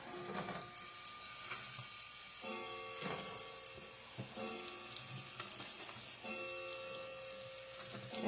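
Three large Vidalia onions go into a hot pan and fry with a soft, steady sizzle, layered with faint clinks and kitchen clatter.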